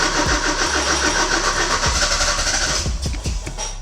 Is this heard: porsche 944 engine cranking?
yes